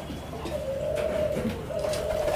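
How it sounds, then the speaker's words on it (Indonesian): A four-month-old Kelantan turtle dove, a young bird still learning its song, gives soft, unsteady coos in two drawn-out phrases, fairly close, over a faint background hiss. "burung saya ini yang tekukur Kelantan ini baru 4 bulanan, baru belajar ini ya, baru belajar manggung"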